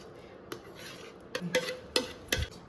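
Spoon clinking against a container while stirring a muskmelon juice mixture, a few soft scrapes and sharp taps spaced irregularly, faint and close, no voices.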